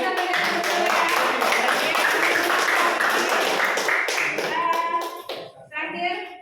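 A classroom of students claps together in a dense, steady burst lasting about five seconds. The clapping then fades out, and a few children's voices are heard at the end.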